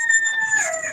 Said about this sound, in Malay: dah lama tak dengar bunyi ayam kokok